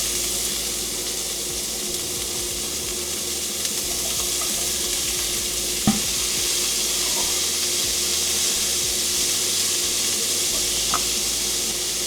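Squash, carrots and asparagus sizzle steadily in a pot for a vegan soup, a constant close hiss with a few faint stirring knocks and no talking.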